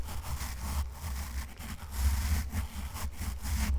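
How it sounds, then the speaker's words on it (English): Bristly front of a toothbrush rubbed close up, a steady scratchy brushing texture in repeated strokes, soft and intimate with no voices. "Meanwhile, the front of the toothbrush sounds like this."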